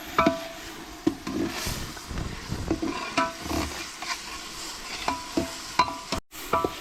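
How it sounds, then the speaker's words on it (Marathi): Onion and green chili sizzle steadily in a pan while a spatula scrapes and stirs with repeated knocks against the metal, close and moderately loud, with no talking. "मिरची ना कांदा लाल झाला मस्तपैकी होतोय चालू आहे"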